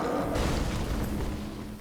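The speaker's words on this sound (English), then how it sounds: "Explosion." A dull, rumbling explosion from the video game Dark Souls 3, set in Farron Keep, fills the moment as a sustained low boom that stays loud and even for about two seconds with no voices over it.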